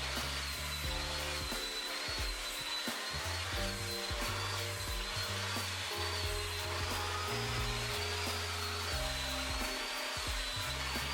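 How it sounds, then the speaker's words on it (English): A blow dryer with its attachment removed runs continuously at close range, a steady whirring hiss while scrunched curly hair is dried, with faint music underneath. "I'm gonna just kind of scrunch it and blow dry at the same time"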